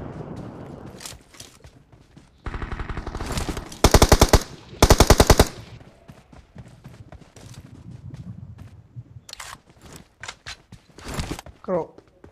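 Gunfire in a battle royale video game: rapid automatic bursts in two or three loud clusters amid scattered single shots, with players talking intermittently over the action.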